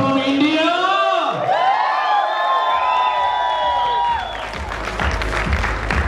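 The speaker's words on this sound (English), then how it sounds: "Can we give a huge round of applause?" A bodybuilding competition crowd in India applauds and cheers loudly for a new IFBB Pro, with sustained clapping and whoops while a voice calls out over it, growing denser toward the end.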